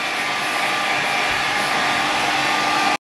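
A hair dryer blows steadily at a hair appointment, a loud, close, unbroken whoosh that cuts off abruptly at the end.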